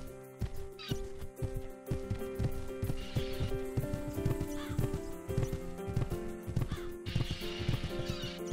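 A pony on a stable yard whinnies and neighs several times while its hooves clip-clop steadily on hard ground, the steps close and continuous under a busy background with no talk.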